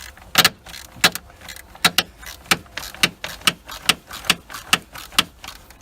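Ratchet wrench cranking on a 13 mm battery hold-down bolt in a Dodge Caravan, a steady series of sharp close clicks repeating about twice a second, with no talk.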